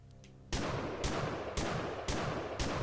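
Police shotgun blasts in the horror video game Lovecraft's Untold Stories, four loud booming shots at an even half-second rhythm, each with a sharp crack and lingering rumble, following a brief quieter game ambience.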